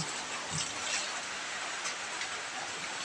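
A steady hiss of rain falling, even and moderately loud, with faint scattered ticks of drops and no talking.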